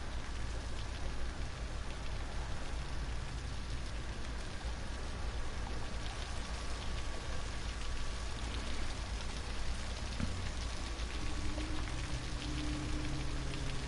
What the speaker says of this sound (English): It's actually raining too.